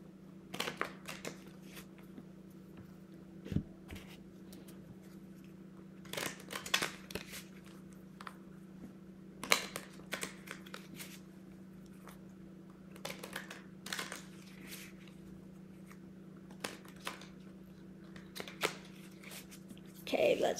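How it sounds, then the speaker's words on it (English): Tarot cards given a ruffle shuffle, quiet riffling bursts and crisp card snaps scattered irregularly over a faint steady hum, soft and close with short pauses between flurries. "Let me give these a good ruffle shuffle here before we begin."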